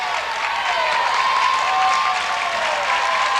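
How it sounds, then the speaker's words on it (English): Paintsville Tigers high school basketball crowd at a regional tournament game, steady loud applause and cheering as fans rise to their feet, continuous with no break. "And again, the Paintsville Tiger crowd comes to their feet."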